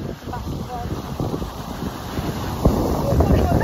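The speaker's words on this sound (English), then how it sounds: "Loads of spray off all the rocks." Sea waves crash and throw spray against the rocks of a breakwater at Brixham, Devon. The surging water roars close by under heavy, buffeting wind noise on the microphone.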